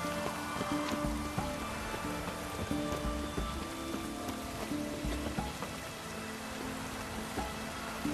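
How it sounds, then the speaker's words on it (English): Steady rain falling in The Witcher 3, a dense, even patter of drops on surfaces that runs the whole time at moderate level, with faint game ambience and no talking. "Rain, I like rain."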